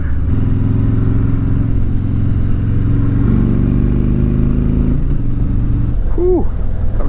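A 2019 Harley-Davidson Electra Glide Standard motorcycle out on a ride gives a steady, loud low engine drone that shifts pitch slightly as it cruises, with wind rumble and a brief faint voice near the end.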